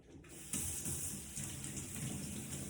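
Water from a kitchen tap runs steadily into a sink, wetting a towel for wiping dirt off mushrooms, and starts abruptly as a close, continuous gushing stream.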